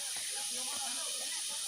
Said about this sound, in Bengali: ঝিঝি পোকা কিভাবে ডাকতেছে আল্লাহ